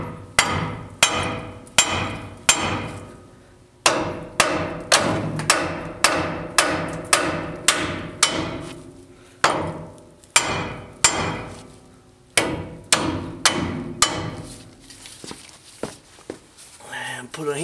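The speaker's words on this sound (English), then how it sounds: "shock it with a hammer" A sledgehammer pounds a ball joint on a 2005 Ford F250 truck, loud ringing metallic blows repeated in steady runs for many seconds, close up, with short pauses between sets.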